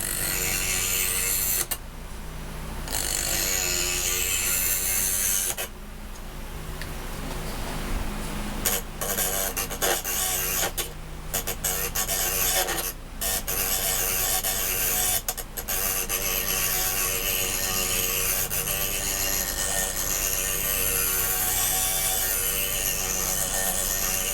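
A knife blade is sharpened on both sides against a sharpener, giving a continuous, close rasping scrape that runs nearly throughout, broken by a few short pauses.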